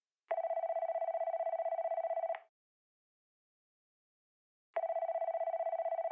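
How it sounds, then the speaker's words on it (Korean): Two bursts of an electronic-style telephone bell ringing heard at night outside a military base's main gate, each about two seconds long with a rapid trill, separated by silence; clear and alone, no talking. "정문 바깥에서 전화벨 소리가 들립니다"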